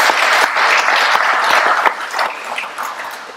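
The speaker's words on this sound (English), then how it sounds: "give them a round of applause" A crowd at a facility grand opening gives a round of applause, loud and continuous with distinct sharp claps scattered through, gradually thinning toward the end.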